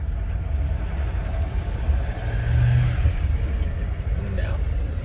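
A car engine revs under load, a steady mid-pitched droning roar with a slight swell in the middle, close and continuous throughout.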